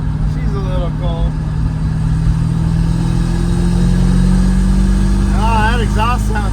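A Thunderbird car's engine and exhaust rumble with a deep, steady, loud drone while driving, rising slightly in pitch as it pulls, with someone talking over it.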